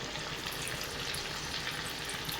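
Pieces of rice flake vada fry in hot oil, giving a soft, even sizzling hiss that carries on without a break.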